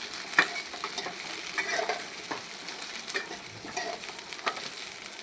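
Onions frying in oil for a Marathi-style onion recipe, a steady close sizzle with soft crackles and patter throughout, no voices.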